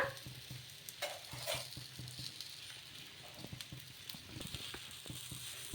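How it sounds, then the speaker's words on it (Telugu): Rumali paratha cooking on an oiled pan gives a soft, steady sizzle with scattered crackles and light scraping ticks, faint and close, with no voices. "నూనె పూసుకున్న తర్వాత ఈ పరాటని అయితే వేసేసుకోవాలి వేసుకొని కాల్చుకోవడమే"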